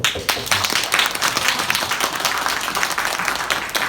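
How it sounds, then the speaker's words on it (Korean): Enthusiastic applause from a high school youth group at a church Sunday service, celebrating a wedding couple, with dense continuous clapping at steady volume. "고등부 친구들이 축하를 정말 진심을 다해서 축하하는 박수 한 번만"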